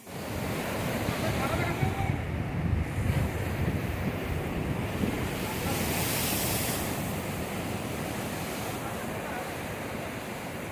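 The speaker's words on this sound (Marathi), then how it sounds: "भरपूर लाटा येतात, गेम होईल की नाही सांगता येत नाही," Rough sea waves crash onto the shore during a sea-fishing outing in heavy surf and rain, a loud, continuous roar with strong wind buffeting the microphone throughout.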